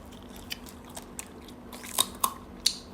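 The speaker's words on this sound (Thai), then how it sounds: "แต่หนวดมันกรึบหนึบหนึบมากเลยนะ" Someone chewing crunchy squid tentacles up close, soft repeated bites followed by several sharper crunches toward the end over a quiet background, without speech.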